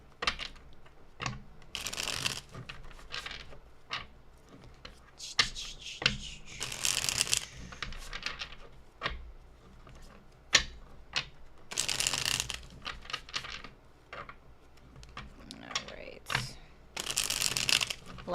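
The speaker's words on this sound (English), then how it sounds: "Let me just shuffle these cards real quick." Tarot cards shuffled in repeated bursts of crisp riffling and flicking, close by, with a person talking intermittently between and over the shuffles.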